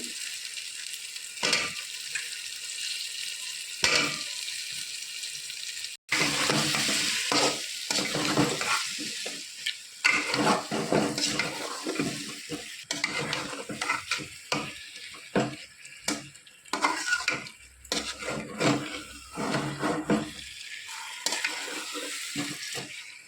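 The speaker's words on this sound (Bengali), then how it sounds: "আলুর সাথে মশলাটা কষানো হয়ে গেলে" Small cut potatoes with ginger, onion, garlic and spices stir-fried in a pan for khichuri, loud close sizzling broken by frequent scraping strokes of a spatula and occasional pan knocks, sustained with no voices.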